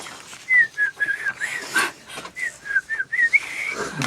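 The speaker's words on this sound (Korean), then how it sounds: "휘파람이에요." Someone whistles a melodic tune in clear, sliding phrases with short breaks, the chorus of a Korean song performed live in a radio studio, fairly close and with no talk over it.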